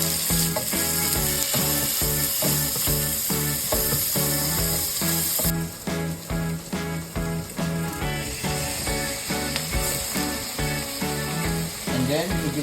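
Oil sizzles steadily in a pan as turmeric and eggplant fry, with a constant close crackle and rhythmic stirring scrapes. The music underneath is probably an added soundtrack.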